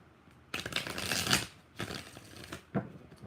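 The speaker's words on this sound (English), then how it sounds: "One more shuffle." Tarot cards being shuffled by hand, several brisk riffling bursts with short pauses between them, close and fairly quiet, with no talking.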